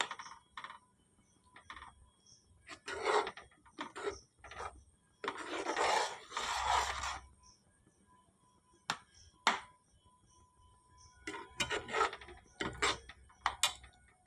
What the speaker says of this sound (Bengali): দিয়ে নাড়তে থাকবো যতক্ষণ না দুধটা এর মধ্যে মিশে যাচ্ছে